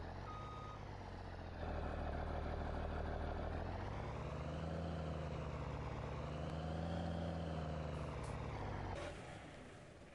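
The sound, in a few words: tractor engine running, from a video game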